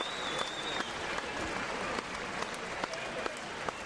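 Boxing crowd in Russia applauding and cheering after a 2007 bout between Dmitry Kirillov and Jose Navarro, a dense, continuous arena roar of clapping with occasional sharper claps and a faint whistle.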